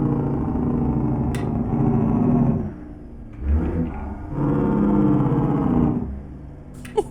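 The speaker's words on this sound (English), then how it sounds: "That's a mean sounding engine." A CAT C-15 truck diesel engine in a video game revs in bursts, dropping to a lower idle between surges, loud and close with a synthetic, game-like tone.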